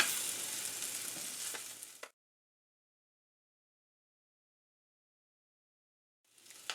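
Rabbit liver frying in grease in a pan, a steady crackling sizzle for about two seconds that cuts to silence, then returns briefly near the end.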